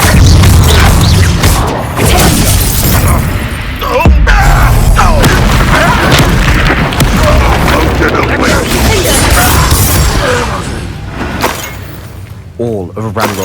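In the Hogwarts Legacy video game, a Confringo fire spell explodes with loud booming blasts and crashing impacts amid busy combat effects, while voices speak over the action.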